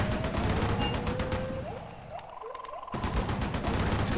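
Rapid bursts of machine-gun fire rake infantry units in the war game Graviteam Tactics, loud and dense, fading into a short lull before the rattling volley resumes.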